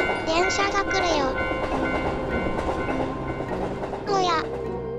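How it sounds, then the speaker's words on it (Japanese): A cartoon ghost train rushes past at a railway crossing with rhythmic clattering wheels and whistle-like tones over busy background music, loud and close throughout. "電車が来るよ。"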